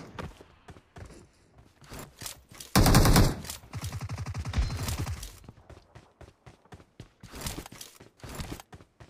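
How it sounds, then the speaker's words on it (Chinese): Bursts of machine gun fire from a shooting video game, loud rapid volleys standing out between quieter stretches of game sounds and footsteps. "你又上哪背了把机枪？"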